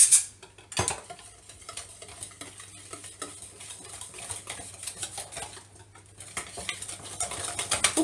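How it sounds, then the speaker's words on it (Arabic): A utensil scrapes and taps rhythmically against a bowl while flour is stirred into a beaten egg and sugar mixture for a chocolate moelleux batter, producing close, soft, repetitive strokes with no talking. "وكنحركو مزيان حتى كتندمج كاع العناصر"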